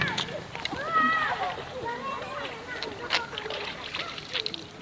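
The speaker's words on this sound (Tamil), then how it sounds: "காட்டாத்து தண்ணியில் கழுவுறோம்." Quail being washed in forest stream water outdoors, with soft splashing and trickling close by under steady running water, while a voice speaks over it.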